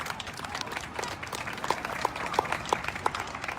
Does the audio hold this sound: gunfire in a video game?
no